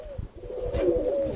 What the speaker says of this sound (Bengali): তো এইটা টাইগার কালারের মধ্যে মুখী কবুতর আসছে মাশাআল্লাহ